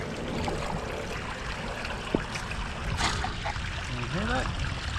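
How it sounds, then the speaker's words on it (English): A small creek trickles and babbles next to a river at Great Falls National Park, making a steady, close wash of running water that continues while people talk briefly over it. "There's a little creek."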